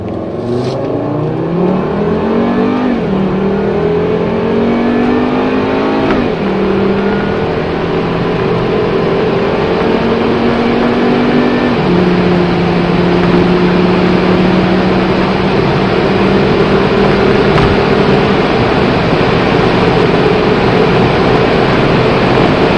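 A 2.5-litre 300 hp Volvo V70R automatic, with transmission and throttle in sport mode, accelerates hard, its engine climbing loudly through several gear changes and pulling steadily for over twenty seconds with no talking.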